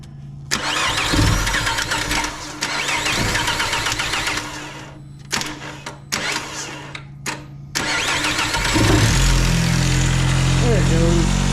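A key-started engine cranks repeatedly while priming fuel, then fires and settles into a steady running drone, close and loud, with people talking over it.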